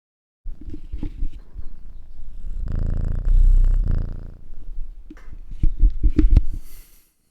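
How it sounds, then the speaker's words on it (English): A mother cat that recently had kittens purrs close up, a low rhythmic rumble pulsing in steady breaths, with a few soft handling noises around it. "let's see if we can hear her purr."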